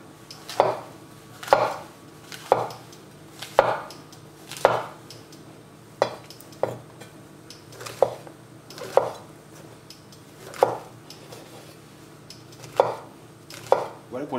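A knife chops mushrooms on a cutting board in a steady rhythm, about one crisp thunk per second, close and clear with no talking.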